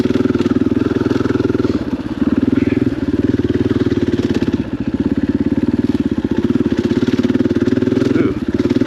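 Trail motorcycle engine running steadily and loud throughout at an off-highway vehicle park, with a dense chugging rhythm and slight dips in throttle, close to the rider.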